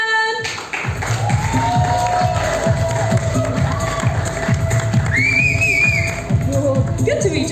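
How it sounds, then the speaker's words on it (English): An audience at the Dhamaka movie trailer launch claps and cheers for actor Karthik Aryan, loud sustained applause with shouts and whoops throughout, a voice briefly rising above the crowd near the end. "can we have another round of applause? A robust round of applause."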